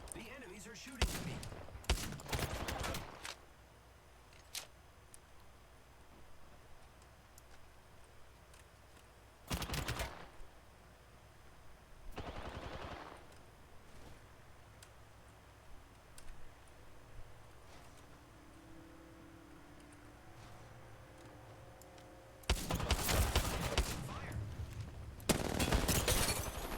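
Enemies shooting at the player in a video game: several short, loud bursts of rapid gunfire separated by quiet stretches, with someone talking faintly in between.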